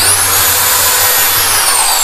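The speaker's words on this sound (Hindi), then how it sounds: "यहाँ पे हमारा ड्रिल मशीन है इसमें दोस्तों ये 764 का बिट लगा हुआ है।" An electric drill machine fitted with a 764 bit runs steadily while boring a hole for fitting a stainless steel basket in a modular kitchen, giving a loud, continuous high-pitched whine with no talk.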